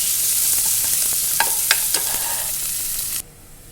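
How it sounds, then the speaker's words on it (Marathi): Onion sautéed in a pan for dal khichdi, a loud, close hiss of frying with a few spatula strokes scraping through, ending abruptly as the sizzle drops away near the end. "कांदा टाकूया परतून घेऊन चांगलं"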